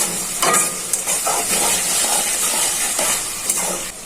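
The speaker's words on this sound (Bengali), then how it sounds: "এখন পেঁয়াজ চিংড়িগুলো ভাজা হয়ে যায়, সাথে লবণ ছিটিয়ে দিচ্ছি।" Prawns and onion frying in a pan with salt sprinkled over them, producing a loud, steady, hissing sizzle close by with a few brief surges, and no voices over it.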